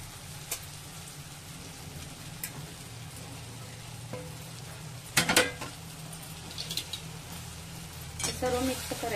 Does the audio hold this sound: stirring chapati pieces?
yes